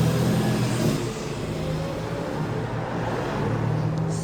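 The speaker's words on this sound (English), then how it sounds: "So many lorries coming through Northampton." Lorries and traffic passing on a busy road in Northampton, a steady loud rumble and roar of heavy engines that swells slightly as vehicles go by, with no talking.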